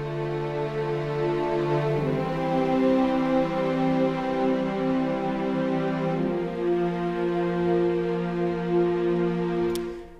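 Layered orchestral strings, a sampled Mural viola, Metropolis Ark 2 high strings and cello, play sustained chords that shift harmony around two and six seconds, held and resonant throughout without talk.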